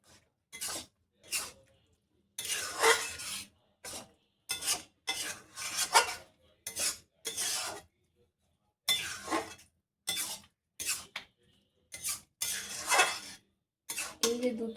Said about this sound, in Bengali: এবার আমি একটু নাড়াচাড়া করিয়ে নেব